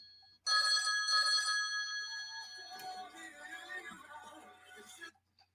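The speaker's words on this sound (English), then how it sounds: "Oh, we got a caller right now." An incoming call rings through on a live call-in talk show, a steady electronic telephone ring lasting about five seconds at moderate volume, heard alone before cutting off.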